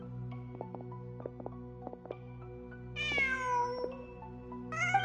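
A cat in the video game Genshin Impact meows twice, a drawn-out meow followed by a shorter one, over a soft game soundtrack with plucked notes.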